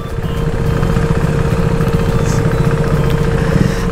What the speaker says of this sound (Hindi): तो मैं बाइक लगाता हूँ यहाँ पे